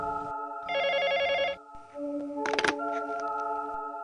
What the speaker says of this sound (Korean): 그때 갑자기 전화 한 통이 걸려왔다